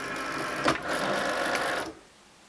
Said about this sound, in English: the machine is going to take it through